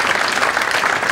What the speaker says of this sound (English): how about a round of applause for Kevin Wilder?